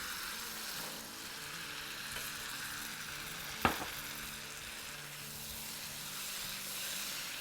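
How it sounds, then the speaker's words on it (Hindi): Black chickpeas roasting in a spicy masala in a pan, a soft, steady frying hiss with one brief knock near the middle, close but faint and without speech. "मसाला भुन रहा है"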